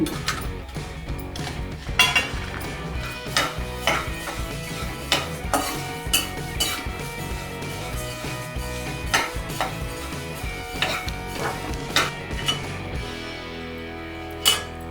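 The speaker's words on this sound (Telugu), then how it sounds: "ఇవిగోండి, ఇవి వేయించుకున్నాను గరం మసాలాకి" Whole garam masala spices, including coriander seeds, cumin, shahjeera and fennel, are dry roasted in a pan, heard as repeated scraping, stirring clinks and light rattling of seeds against metal throughout, close and steady.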